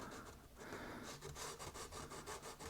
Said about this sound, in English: Here's my 1800 pad, and I'm just going to give it a quick rub down.